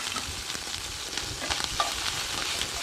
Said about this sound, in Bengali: আদাটা একটু হালকা করে ভেজে নেব তেলে।